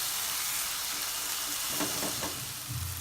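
Ground coriander, turmeric and other masala spices sizzle and fry in a pan while being stirred, a steady close crackling hiss with a few scraping stir sounds.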